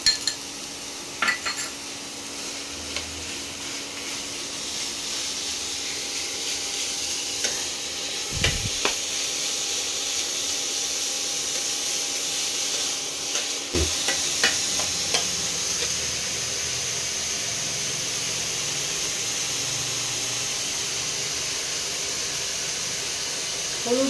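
Chicken mince, seasoned with salt, pepper and lemon juice, fries in a pan with a loud steady sizzle, broken by occasional scrapes and clinks of a spoon stirring against the metal.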